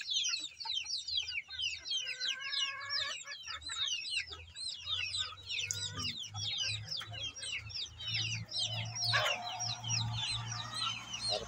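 Backyard chickens cluck and chatter busily at feeding time, many overlapping calls close by over a low steady hum, with a louder burst of squawking near the end.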